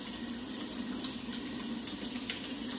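Tap water pours steadily into a sink as hands are washed at home, a continuous close hiss and splash with no pauses or voices.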